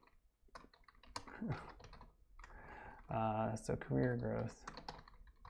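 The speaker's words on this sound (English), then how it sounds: "So let me just join it here by typing." Computer keyboard typing clicks along in short bursts beneath a lecturer's speech, with several louder voiced passages partly masking the keystrokes.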